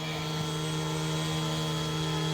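Wolfbush AW-911 RC helicopter hovering with no hands on the controls, giving a steady, loud, close drone with a strong tonal whine and buzz that holds unbroken throughout.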